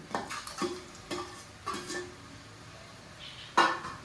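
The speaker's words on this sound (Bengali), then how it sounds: "এবার নাড়াচাড়া করি ভালো করে। নাড়াচাড়া করে মিশিয়ে দিলাম।" Vegetables fried earlier are stirred through a pan with crushed nuts, giving a few sharp scrapes and clinks of a utensil against the metal at an uneven pace, fairly close and moderately loud, with no talking.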